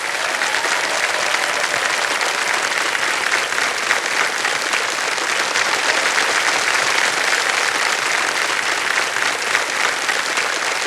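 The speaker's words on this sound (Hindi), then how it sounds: "ताली बजती रहे" A studio audience on the Hindi quiz show Kaun Banega Crorepati gives loud, dense, sustained applause that holds steady for about eleven seconds with no talking over it.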